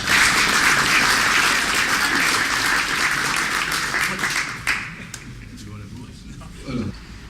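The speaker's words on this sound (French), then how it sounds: "vous pouvez l'applaudir 2 fois" An audience applauds during a French candidate's speech at the opening of his campaign office. Dense, loud clapping fills most of the clip, then thins out and fades into scattered claps and a few voices at the end.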